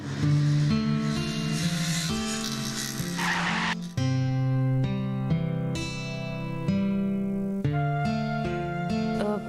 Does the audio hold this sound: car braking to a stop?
yes